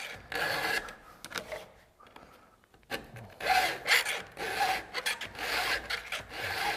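A file sharpens a chainsaw chain in repeated close, raspy strokes, with brief pauses between bursts of grinding and a short lull midway before faster filing resumes.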